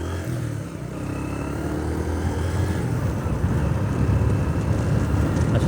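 Heavy wind roar buffets the microphone while a motorbike travels along the Jamuna Bridge, a steady broadband rush that grows slightly louder toward the end, with no voices.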